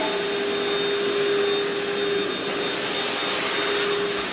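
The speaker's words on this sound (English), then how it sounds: "we prefer to vacuum to remove all the dead hair" A vacuum cleaner drones steadily and loudly without a break, its motor holding a constant whine with a rushing airflow roar, used by a professional house-cleaning service to pick up dead hair from tile and grout.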